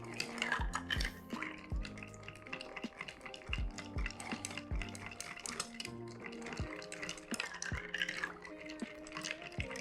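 Ice clinks and rattles as a bar spoon stirs a cocktail in a mixing glass, a close, quiet run of rhythmic tinkling and knocks that continues steadily without talk.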